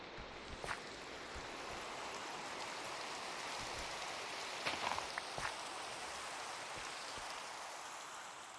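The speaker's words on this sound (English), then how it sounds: "Sheltering us from the rain." Steady rain falling outside a small cave in a video game, a soft continuous hiss heard from shelter with a few faint drips and splashes, no voices.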